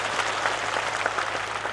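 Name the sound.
crowd applause at a political rally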